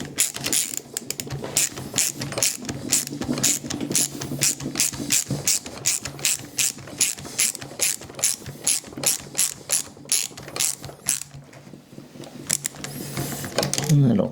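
A ratchet tightens bolts on a Stihl 362CM chainsaw, with rapid rhythmic clicking in repeated strokes, close and fairly quiet, continuing steadily for several seconds over a faint low hum.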